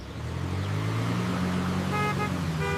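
A cartoon car horn toots in a short series of bright beeps over a steady low road rumble, clearly audible and fairly close, with no talking.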